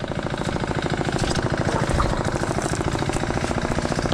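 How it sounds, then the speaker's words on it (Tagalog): A small engine keeps running beside a river after being swept in the water, a loud, close, rapid chugging idle with a steady knocking pulse and no talk over it. "ayan, umaandar pa rin yung makina."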